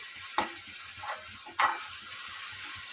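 Fresh ginger garlic paste frying in hot oil for a drumstick chicken curry, a steady loud sizzle with two sharper stirring scrapes, close up and without talk.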